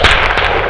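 A single loud, close rifle gunshot during a bear hunt on a farm: one sharp, forceful blast that rings out briefly.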